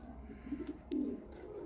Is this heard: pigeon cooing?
yes